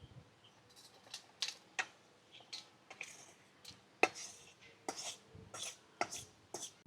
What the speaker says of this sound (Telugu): ఈ పోపు అంతా కూడా ఒక గిన్నెలో తీసేసుకుంటున్నాను.